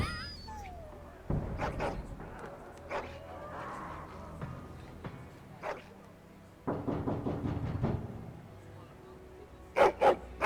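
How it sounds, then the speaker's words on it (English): An angry dog barks and growls in Dragon Age: Origins, sharp barks breaking out in bursts amid game sounds, with a voice speaking over parts of it. "Angry barking and growling."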